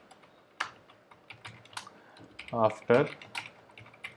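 Code is typed on a computer keyboard with scattered clicks and a few quick bursts of keystrokes, close and fairly quiet. A brief word of speech is heard between the taps.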